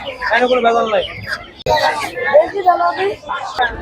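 Native chickens cluck and squawk in a busy poultry market in Tongi, their calls mixed with nearby voices talking throughout.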